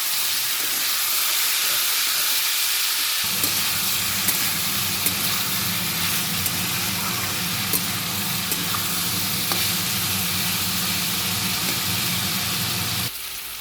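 Diced potatoes fry in oil in a pan with a steady, close sizzle that starts quietly then swells into continuous frying hiss, with occasional stirring clinks, until it drops away at the end.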